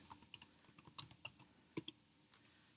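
Keys on a computer keyboard are tapped at an uneven pace, a scattering of quiet, sharp clicks with short gaps, close by and with no voice over them.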